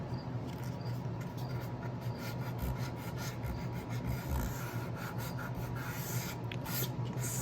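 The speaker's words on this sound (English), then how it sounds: "I'm going to go ahead and just sand a little bit kind of in these areas where they did overlap and a little bit on the edges" Hand sanding along the edges of a wooden craft box with sandpaper, a steady close rasping scrape of paper on wood with repeated strokes throughout.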